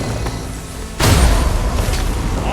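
Explosion in the video game Dragon's Dogma II: a sudden loud boom erupts midway, with a heavy low rumble that lingers and decays over the following seconds against steady game ambience.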